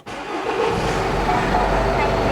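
A 2010 Renault Samsung QM5 diesel 4WD LE with 145,000 km and push-button start fires up and settles into a loud, steady diesel idle, close by, with a low rumble filling the cabin.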